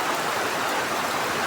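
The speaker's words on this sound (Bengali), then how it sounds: "মুষলধারে বৃষ্টি হচ্ছে" Heavy rain pours down in a dense, even roar of broadband hiss that stays close and steady the whole time, with no voices.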